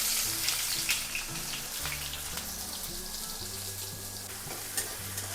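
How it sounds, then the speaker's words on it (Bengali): Chopped onion and garlic frying in mustard oil, a loud continuous close sizzle with stirring scrapes, over a steady background of music. "পেঁয়াজ আর রসুন কুচিটাকে হালকা করে আগে ভাজে নেই"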